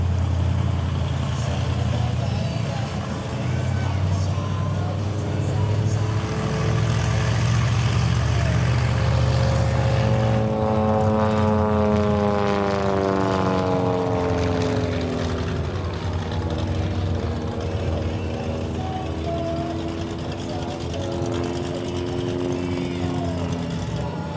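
A steady propeller engine drone fills the whole stretch, with a rising and falling harmonic whine midway as the aircraft shifts pitch or passes.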